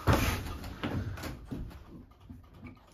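A door on a homemade tiny cabin opens or shuts with a loud initial thud, followed by several softer knocks and rattles that fade over a few seconds, with no one speaking.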